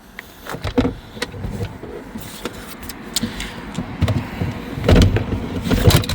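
A folded manual wheelchair lifted and slid into a small car boot, with a series of sharp knocks, scrapes and clunks that build louder toward the end, close by and with no talking.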